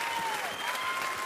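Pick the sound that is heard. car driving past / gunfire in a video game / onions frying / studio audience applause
studio audience applause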